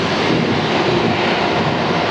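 An airplane passes overhead at Atlanta airport, its engine producing a loud, steady broadband roar that fills the whole moment without variation or talk.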